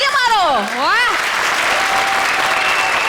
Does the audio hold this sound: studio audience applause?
yes